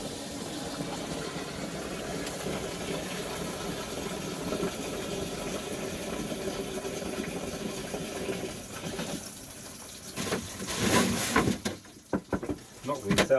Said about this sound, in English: that sounds like water's going in it